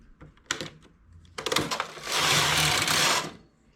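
A domestic knitting machine knits the first row of a rice-stitch child's turban with the comb attached: a few mechanical clicks, then a loud, steady carriage sweep lasting about a second before stopping.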